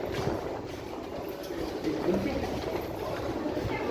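A Kolkata Metro train running underground, a steady low rumble and rattle of the carriage with faint rhythmic clatter, heard from inside the moving car.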